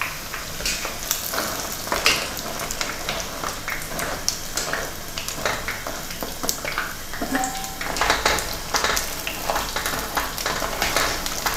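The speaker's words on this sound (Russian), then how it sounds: "Мы обжарим наши питы до золотистой корочки." Pita bread frying in a pan until golden, a steady soft sizzle and crackle with scattered pops and occasional stirring scrapes, close and moderately quiet.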